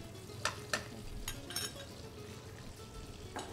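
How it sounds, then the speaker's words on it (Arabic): Garlic and onion frying in hot oil, a soft steady sizzle with a few sharp clinks of a spoon stirring, close and fairly quiet. "يحمى الزيت وتخليه البصل عادي. أول مرة نخلي الثوم"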